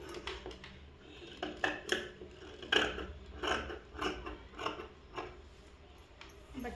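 Scissors snip through cloth being cut for a school uniform, giving a series of crisp, irregular clicks and crunchy cuts close by, fairly quiet and spaced unevenly.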